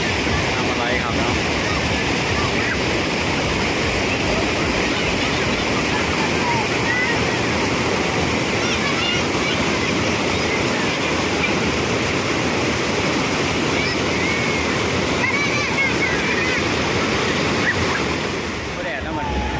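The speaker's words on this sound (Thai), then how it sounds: "น้ำตกเนาะน้ำตกตาดเลยเรื่องกระเย็นเขื่อนปล่อยน้ำลงมาเนาะ" Water released from a river dam pours over a waterfall in a steady, loud roaring rush that continues unbroken for about twenty seconds, with wind buffeting the microphone and voices mixed in.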